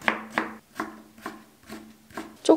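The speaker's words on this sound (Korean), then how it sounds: "10cm 정도 남겨둔 무. 얇게 썰어 채 썰어주세요." A kitchen knife cuts thin slices of radish for kimchi and then shreds them into strips, giving six sharp chopping taps on a board at a steady, unhurried rhythm. The taps are close and alone, and the last stroke is the loudest.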